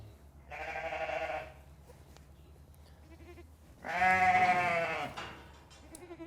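Ewe on a farm bleating for her lamb, two drawn-out bleats a few seconds apart, the second louder and nearer, over a low background hum.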